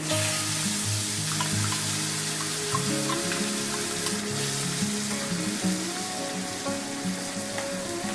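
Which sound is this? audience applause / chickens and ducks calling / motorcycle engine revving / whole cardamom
whole cardamom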